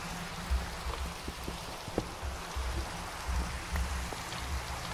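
Rain falls in a scary Minecraft modpack game, a steady dense hiss of drops with scattered soft low thuds and patters running evenly throughout.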